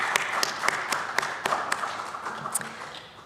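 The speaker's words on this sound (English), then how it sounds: "Please give Sierra a round of applause" An audience at a school ceremony applauds for a departing student leader, with scattered sharp claps in a light, fairly distant ovation that thins out toward the end.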